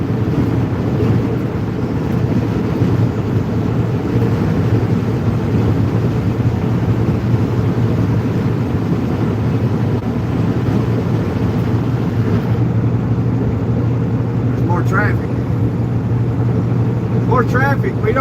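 Road traffic rumbles steadily from inside a moving truck cab, a constant low drone with wind-like hiss throughout, and a few faint higher sounds near the end.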